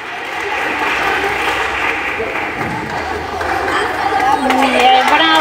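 An audience at a concert in the Divina Misericordia sanctuary claps steadily, the applause building slightly toward the end, with some crowd chatter and voices mixed in.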